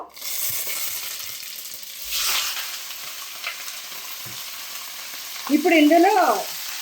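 A goat head fries in oil spiced with bay leaf, cinnamon, cardamom and cloves, crackling and sizzling. A louder burst of stirring and scraping comes near the end.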